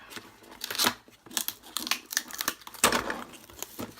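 Packaging of a Sizzix Sidekick die cutter being opened at a desk: close, irregular rustling, tearing and crinkling of plastic and cardboard in quick bursts, with a louder rip near the end and no talking.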